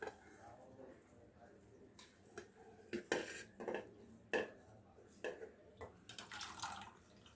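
Cooked spinach and tomato being placed onto a plate to cool, with a series of sharp clinks and scrapes of a utensil against the dish, some close and distinct, over a faint background hum.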